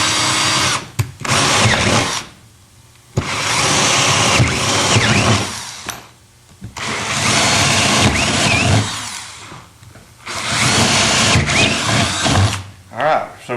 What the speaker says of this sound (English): Well, actually, my drill's getting weak.